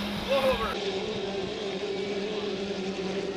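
Racing hydroplane motorboats at full throttle in a 1.5-litre final at Valleyfield, a loud droning roar from the engines with a rising whine early on, under commentator speech.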